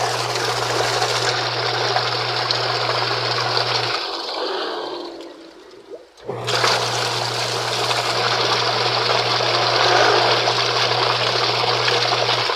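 A repaired twin tub washing machine runs during its final test, water rushing and churning loudly with a steady motor hum that pauses briefly and then resumes.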